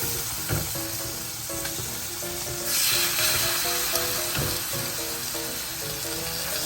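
Pork loin fillets fry in a large pan with a steady, close sizzle. The sizzle swells louder around the middle, and soft background music plays underneath.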